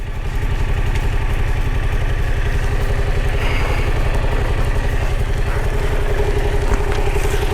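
Close, loud motorcycle engine running steadily with a rapid, even throbbing pulse and mechanical clatter while the clutch is eased out, holding constant throughout.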